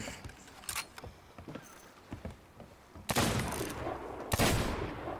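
Gunfire in the Sea of Thieves pirate video game: a scatter of small cracks, then two loud, sharp shots about a second apart, close and with no talk.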